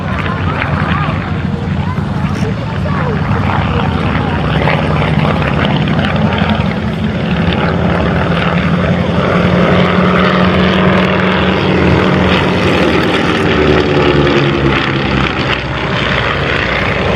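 A vintage Avro Anson Mk.I twin-engine propeller aircraft flies a display at an RAF Cosford air show, its loud, steady propeller drone slowly shifting in pitch as it passes, with a voice speaking faintly underneath.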